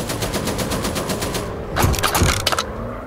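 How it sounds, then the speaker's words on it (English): Rapid machine gun bursts from a WW1 fighter plane in the game Warplanes WW1 Fighters; a fast, even rattle of shots hammers for about a second and a half, then heavier irregular bursts and impacts follow over a droning engine. "It's under heavy fire."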